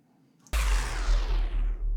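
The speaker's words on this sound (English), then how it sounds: "And we play the deactivate sound." A video game spaceship thruster deactivate effect: after half a second of near silence, a sudden broad rushing, rumbling burst starts and holds steady, loud and close, with a deep low-end roar.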